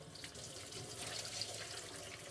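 Tap water runs steadily into a sink while dyed skating tights are rinsed, a soft continuous splashing hiss without pauses.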